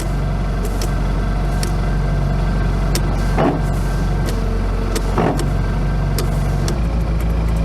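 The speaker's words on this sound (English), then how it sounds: "All right, so the wipers." A classic Mini's windscreen wipers run over a steady engine idle, each sweep a soft swish that repeats about every two seconds at close range.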